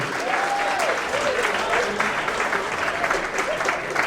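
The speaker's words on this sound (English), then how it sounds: "Let's give our next Chairman applause, our Chairman John Gary." A crowd at a retirement dinner claps steadily in sustained applause, loud and close, with a voice speaking over it partway through.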